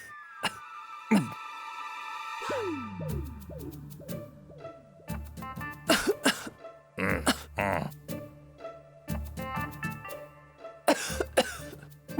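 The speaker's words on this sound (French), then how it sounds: "J'ai entendu une toux là." Person coughing in a drama scene, several short bursts scattered through the clip amid background music tones, moderately loud and close.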